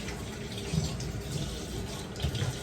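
Cold tap water runs steadily into a kitchen sink as meat is washed, a continuous close rush of water with faint splashes and clatter mixed in.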